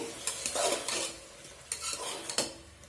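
Tamarind and half a tablespoon of turmeric stirred into hot oil in a pan for an Andhra-style brinjal curry, with a spoon scraping in several quick strokes over a soft, steady sizzle, close and moderately loud.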